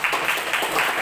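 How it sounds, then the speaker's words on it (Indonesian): An audience at an Islamic school quiz competition bursts into steady, dense applause, a crowd of many hands clapping continuously and fairly loudly in a rhythmic wash. "Tepuk tangan yang meriah."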